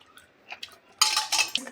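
Rasam being strained in a kitchen, a short bright clatter of metal utensils against a vessel after quieter clinks and scrapes, close and alone.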